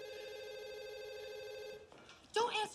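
A telephone rings with a steady electronic trill that stops short, and then a voice speaks close by.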